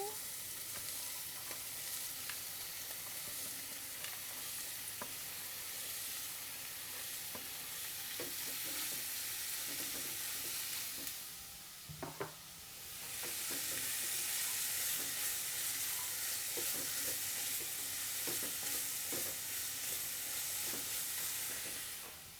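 Carrots frying in chorizo oil for a chorizo and lentil hot pot give a steady, close sizzle that runs throughout, with occasional stirring scrapes and a brief dip before the frying noise swells louder again.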